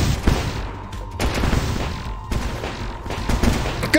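Gunfire in the video game Starbound, a dense burst of rapid shots crackling continuously for several seconds at steady loudness, with occasional heavier impacts and no talking.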